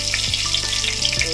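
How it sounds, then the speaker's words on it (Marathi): Curry leaves and mustard seeds sizzle in hot oil for a tempering, giving a steady, close hiss with scattered sharp crackles and small pops throughout. "कढीपत्ता चांगला तडतडला, त्याच्यामध्ये राई घालूया."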